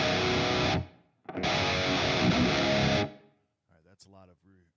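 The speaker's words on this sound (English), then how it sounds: "that's a lot of reverb on it." Distorted electric guitar played through a Friedman amp setting with heavy reverb rings out in two loud bursts, the second sustained and washing away, followed by a short spoken voice.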